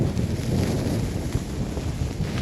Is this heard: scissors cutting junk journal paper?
no